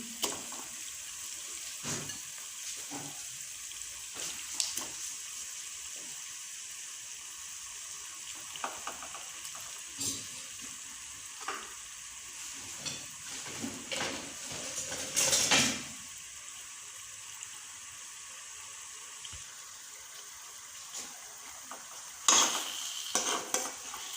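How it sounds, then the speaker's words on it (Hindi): Chicken frying with onions in a karahi, a steady close sizzle with occasional scrapes and clinks of a spoon stirring against the pan, no voices. "अब हम इसमें चिकन शामिल करेंगे और अच्छी तरह भून लेंगे।"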